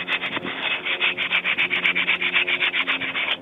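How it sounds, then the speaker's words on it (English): Sandpaper, run by hand with a block, scrubs rust off steel bolts on a Peugeot 206 rear axle: a steady rhythmic back-and-forth rasping, close and fairly loud, about six strokes a second with no talking. "just get a bit of sandpaper if your bolts are rusty"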